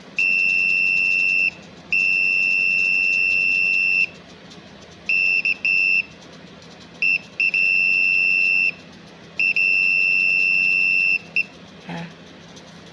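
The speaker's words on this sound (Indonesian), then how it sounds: "Jadi kalau misalnya ada benda di depannya, otomatis dia akan berbunyi." An electronic sensor buzzer on a DIY circuit beeps whenever an object or person passes in front of the sensor, giving loud, steady high-pitched tones in several long bursts with short gaps and a few brief chirps, alone without talk.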